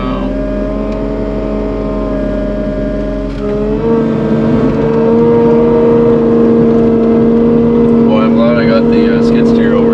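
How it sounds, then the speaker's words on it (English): A skid steer loader's diesel engine runs steadily nearby at a building site, a loud droning hum that shifts to a slightly higher, rougher pitch partway through and keeps going. "The skid steer over here."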